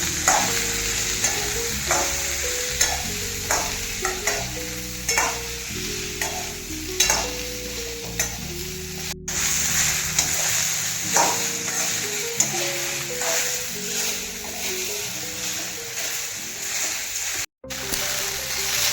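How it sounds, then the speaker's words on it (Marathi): Okra frying in oil in a kadai, a continuous sizzle broken by regular scraping strokes of a spatula as the pieces are stirred and tossed, close and fairly loud, with no talking. "कढईमध्ये वरून तेल घालून घ्यायचं आहे भेंडीवरती, म्हणजे भेंडी चिकट होत नाही जास्त."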